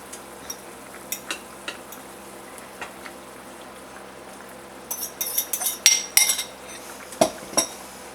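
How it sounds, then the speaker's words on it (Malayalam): Potato masala for poori being stirred in a pan, scattered spoon taps and scrapes over a faint bubbling simmer, growing into a busier burst of clattering strokes near the end, close and quiet, no talking. "നമുക്കിത് ഇളക്കി കൊടുക്കാം. ഇനി ഇതിലേക്ക് നമ്മൾ സ്മാഷ് ചെയ്ത് വെച്ചിരിക്കുന്ന പൊട്ടാറ്റോ ചേർത്ത് കൊടുക്കാം."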